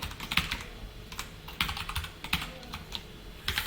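Code being typed on a computer keyboard, quiet and close: irregular bursts of light key clicks with short pauses between runs of keystrokes, and no talking.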